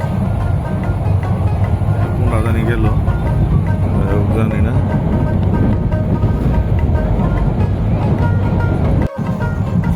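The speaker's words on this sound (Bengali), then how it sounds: "ওই দিকে আরেকটা ট্রেন যেতেছে" Another train rumbles past near a railway station in Bangladesh, heard from aboard a moving train as a loud, continuous low roar with rattling, while someone speaks briefly.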